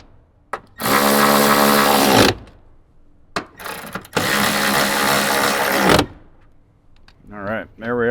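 A power tool whirs in two long bursts of about one and a half and two and a half seconds each, tightening amplifier mounting screws in a Toyota Tundra, loud and close, with short pauses and a brief voice at the end.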